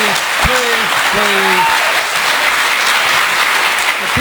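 Steady, dense applause from an audience at a city council meeting fills the room throughout, with a voice talking over the clapping.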